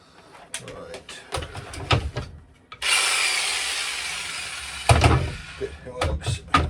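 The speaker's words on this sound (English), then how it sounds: "I haven't used the jigsaw before with this." A jigsaw cuts wood in a narrowboat's electrics cupboard, giving a sustained buzzing rasp for about two seconds, framed by knocks, handling clatter and nearby speech.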